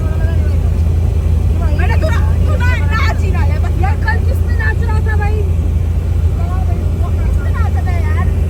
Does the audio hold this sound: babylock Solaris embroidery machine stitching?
no